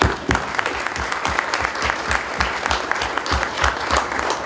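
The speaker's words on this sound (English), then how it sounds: "Give yourselves a round of applause." An audience at a Freedom Shrine display event at Canobie Lake Park in Salem, New Hampshire, gives a round of applause: dense, loud, sustained clapping with distinct individual claps, heard without talk for several seconds.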